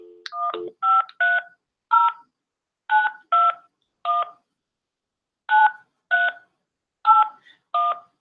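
Telephone keypad tones dialing out for a call, about a dozen short evenly spaced dual-tone beeps in small clusters after a brief opening chirp, clear and close with no talk.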